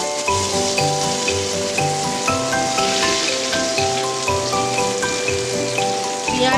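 Chopped onions and green chillies sizzle in hot oil with cumin seeds for a Bengali egg curry, a steady close crackling hiss with faint clinks over it.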